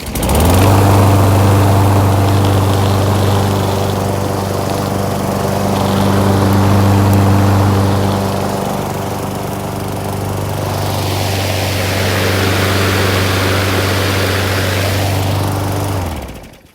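A push lawn mower engine runs loud and close with a steady droning hum that swells and dips slightly in pitch over its length before cutting off abruptly at the end.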